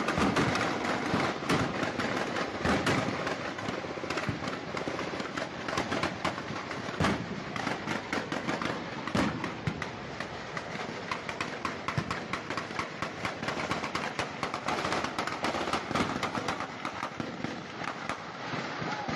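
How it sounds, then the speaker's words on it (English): Sustained firefight with heavy guns in a Jalisco cartel clash, dense rapid bursts and cracks of gunfire continuing without pause for the whole stretch, loud and somewhat distant. "Just listen to the firefight. Some big guns."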